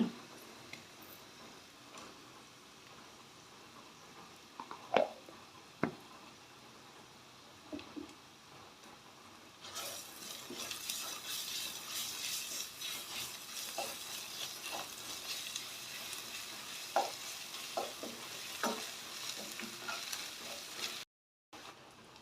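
Ginger fries and is stirred in a pan: faint scattered taps at first, then a steady hiss of sizzling with irregular clinks of a spoon against the pan.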